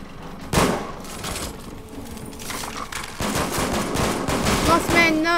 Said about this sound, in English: This is a sad excuse for the minigun.